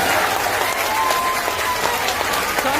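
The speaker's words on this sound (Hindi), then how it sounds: "एक बार आप ताली बजाइए" Loud, dense applause from a crowd at a Jan Suraaj Party political rally in Bihar, steady clapping filling the whole stretch without pause.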